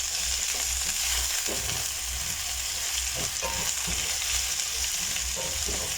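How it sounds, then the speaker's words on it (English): Vegetables for vegan noodles sauté in a hot pan with a constant dense sizzle, broken by occasional soft stirring knocks. "So saute this again for another minute before adding the budget."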